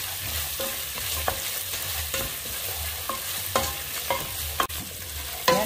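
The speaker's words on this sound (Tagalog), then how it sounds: "Ihalo na natin ito sa unang ricado" Squid curry ingredients being stirred in a hot pan, with repeated scraping strokes in an irregular rhythm over a constant sizzle, close and fairly loud, with no voices.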